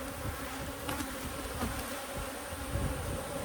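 Honey bees buzzing around an open hive during an inspection, a dense continuous drone close by with individual bees whirring past, no voices.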